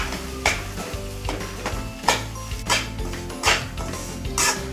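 Semolina roasting in ghee in a pan, a close, steady sizzle with repeated scraping stirs and clinks of a spoon against the pan every second or so, with no voices.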